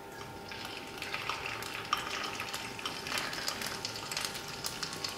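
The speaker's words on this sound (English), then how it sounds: "Once the oil is heated up, we'll put in our chopped dried shrimp." Chopped dried shrimp sizzle in a few tablespoons of hot vegetable oil in a pan, a soft steady crackling hiss with occasional light scrapes, faint and continuous.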